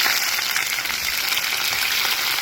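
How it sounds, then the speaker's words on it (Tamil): Onions tipped into a hot pan with mustard seeds and urad dal sizzle steadily while cooking kozhukattai, a dense, even hiss of frying held at constant level throughout, close and without speech. "இப்போ நான் வெங்காயம் சேர்க்கிறேன்"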